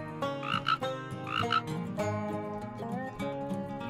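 Frogs croaking in an animated cartoon, a few bright, rhythmic ribbits repeating close by over a tuneful musical background.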